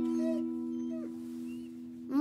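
A cartoon dog in an animated children's show gives short whimpering yelps and a rising howl over a steady held musical tone, with no talking.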